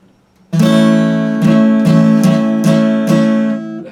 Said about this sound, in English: on the guitar our A sounds like this